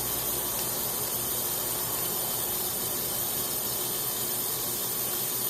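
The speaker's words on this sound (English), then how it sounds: "And that noise you hear is the hose." Continuous hissing rush of water flowing from a garden hose, steady and close, with no pauses or voices.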